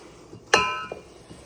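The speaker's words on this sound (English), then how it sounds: "mix it up, and kind of just fold it over on top of it itself" Holiday snack mix being stirred and folded in a bowl: one sharp glassy clink rings out and fades, with a few soft scraping taps around it in an otherwise quiet room.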